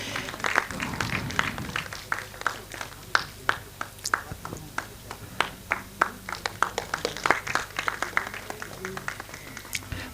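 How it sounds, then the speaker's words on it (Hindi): Applause at an award ceremony, a sparse crowd clapping with distinct individual claps spread irregularly across roughly ten seconds, moderately close and fairly quiet. "एक बार जोरदार तालियां हो जाए।"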